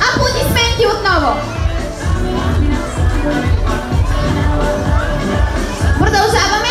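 An audience applauds and cheers at a children's Children's Day fashion show in Petrich, with a steady, loud crowd din of clapping, children's shouts and chatter running throughout.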